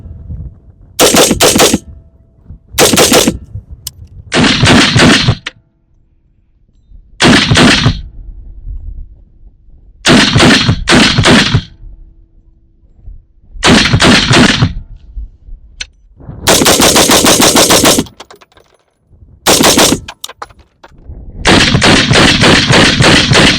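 A Colt M5 carbine firing 5.56 and .223 ammunition: loud, close bursts of rapid shots in groups of one to several, separated by short quiet gaps, with a longer sustained string near the end.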